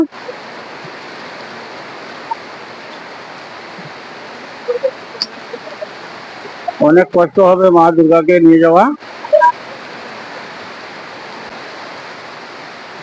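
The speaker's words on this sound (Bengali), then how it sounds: "প্রচুর জোরে বৃষ্টি চলছে প্রচুর জোরে হাওয়া চলছে" Heavy rain and strong wind from a sudden storm during Bijoya Dashami festivities at a family home make a steady, dense roar throughout, while a voice speaks briefly over it midway.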